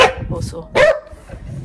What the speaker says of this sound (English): apologies for the barking interruptions